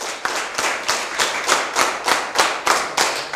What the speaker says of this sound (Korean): 박수 한번 쳐볼게요. 박수 3번 쳐볼 거예요.